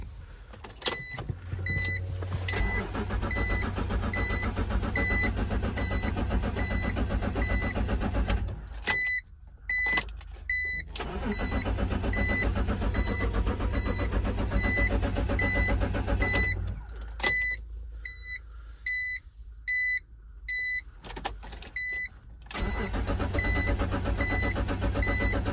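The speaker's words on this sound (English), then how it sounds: "getting inside the car, giving it its first startup" A BMW Z4 starts up for the first time and settles into a steady idle, the engine running continuously with a few short gaps and high whining tones from the car, with no talk.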